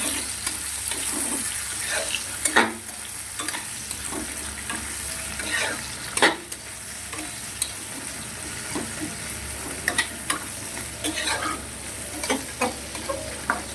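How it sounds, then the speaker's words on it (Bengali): Chopped garlic, onion and tomato fry in hot oil, a steady sizzle broken by occasional sharp clatters of a spoon stirring against the pan, close up and without speech. "রসুন, পেঁয়াজ, টমেটো কুচিয়ে দিয়ে দিয়েছি তেলের মধ্যে"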